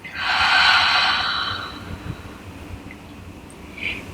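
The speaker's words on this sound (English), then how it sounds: "take a deep breath in and breathe out" A slow, deep breath drawn in and let out while lying down and relaxing the belly, a loud airy rush easing into a softer exhale, alone and close.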